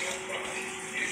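Running water trickling steadily, a faint continuous splash like a tap dripping in a kitchen, heard alone and quiet for about a second.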